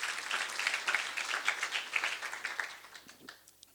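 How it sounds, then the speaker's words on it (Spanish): A church congregation applauding during a Sunday school sermon: dense, steady clapping from many hands that gradually thins and fades toward the end, with no talking over it. "Denle un aplauso a Dios"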